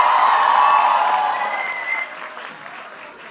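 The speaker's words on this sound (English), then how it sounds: "Please welcome him with a big round of applause." Audience applause at a university felicitation ceremony in Mumbai, a loud sustained burst of clapping that thins out and fades over a few seconds with no talk over it.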